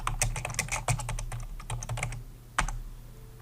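Typing on a computer keyboard, a quick run of close, crisp key clicks in uneven bursts, followed by a pause and one final sharper keystroke.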